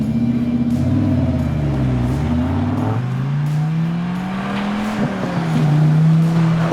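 Dodge Ram SRT10 pickup with the Viper V10 engine revving and accelerating, a loud, deep, close engine note rising and falling through several gear pulls, steady and continuous with no voices.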